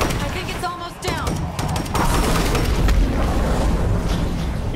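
A thrown explosive in State of Decay 2 goes off with a booming burst amid scattered clatter, and a voice is heard near the start.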